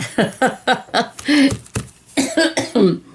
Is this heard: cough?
yes